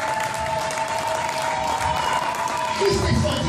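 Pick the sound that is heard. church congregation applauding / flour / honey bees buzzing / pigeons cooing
church congregation applauding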